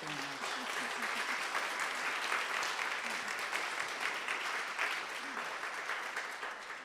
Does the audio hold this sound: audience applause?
yes